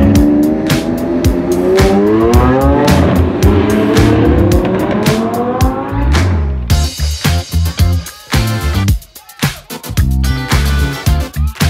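A Lamborghini Aventador S drives close by at City Walk, its engine revving and rising in pitch through the gears, then cutting into choppy bursts of throttle, loud and near.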